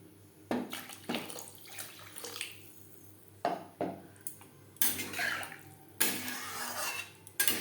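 Water poured into a pan of potatoes and spices for a rui fish tomato curry, heard as a series of close splashing, clattering bursts separated by short quiet gaps.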